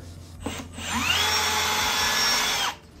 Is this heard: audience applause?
no